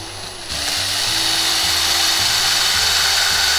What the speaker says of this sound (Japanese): プラスチックとか樹脂を下穴開けるときはこの鉄鋼切りがいいと思います